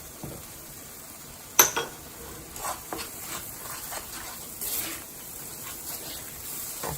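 Gochujang sauce with a spoon of sugar being gently stir-fried in a pan, heard as soft scraping and stirring with a few sharp utensil clinks against the pan, fairly quiet and alone.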